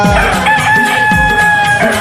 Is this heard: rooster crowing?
yes